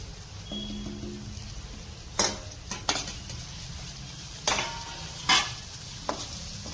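A spice masala with tomato gravy for chole sautés in a pan over low heat, giving a soft, steady sizzle with a few sharp spoon scrapes and clinks against the pan, no voices.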